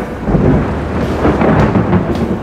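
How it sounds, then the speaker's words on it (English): A winter thunderstorm rolls with loud, deep rumbling thunder over a steady hiss of heavy rain, close and continuous with no voices. "Huge thunderstorm in the middle of winter, if you can believe that."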